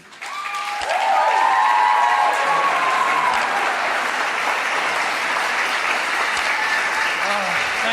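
A large audience welcomes Dr. Edward F. Group to the stage with sustained applause that rises quickly and holds loud and steady, with some cheering mixed in.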